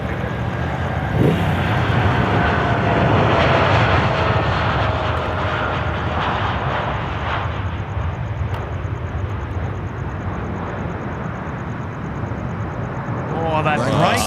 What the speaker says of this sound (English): Now, China Southern, I think, is just upon us, coming up here now from behind the trees.